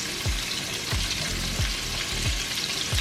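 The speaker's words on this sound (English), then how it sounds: "start to saute my onions" Roughly chopped Vidalia onions sauté in a hot pan with a steady, close sizzle, broken by soft scrapes or stirs about every two-thirds of a second.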